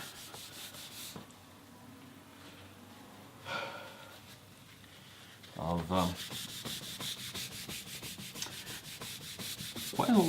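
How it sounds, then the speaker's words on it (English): Cloth buffing an oil finish by hand on a guitar body, giving a soft continuous rubbing swish that grows into quicker, louder back-and-forth strokes in the second half, close and without speech. "really difficult for me to buff all this out"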